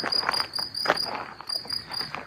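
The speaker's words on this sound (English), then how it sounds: "You can hear all the crickets creaking in the background." Crickets chirp steadily outdoors in a sunny garden, a constant high trill running throughout, with some faint rustling and movement nearby.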